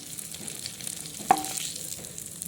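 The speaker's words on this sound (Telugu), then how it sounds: "అన్నీ ఒకేసారి వేస్తే మంచిగా ఏగవని నేను కొంచెం కొంచెం వేసి ఫ్రై చేస్తున్నాను" Liver with amaranth greens fries in a pan with a steady, fairly quiet sizzle, broken once by a single sharp clink of a utensil midway through; no one speaks.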